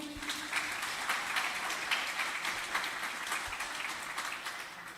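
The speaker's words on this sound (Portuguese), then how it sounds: "Você pode aplaudir ao Senhor" A church congregation gives a sustained round of applause during an evening service, many hands clapping in a continuous even roar at moderate volume with no voices on top.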